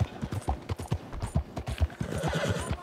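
Horse hooves clip-clop on the town streets of Saint Denis in Red Dead Redemption 2, a steady close rhythm of hoofbeats with a whinny blended in and the sound thickening toward the end.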